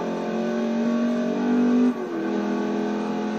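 A car in Forza Motorsport 4 cruises around a track at about 120 mph, its engine a steady, loud droning whine with a held pitch that dips briefly with a shift before settling again.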